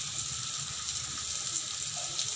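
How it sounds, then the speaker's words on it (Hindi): Poha (flattened rice) being rinsed in water, a steady soft wash of running, splashing water, close and even throughout. "तब तक हम पोहे को धो लेंगे।"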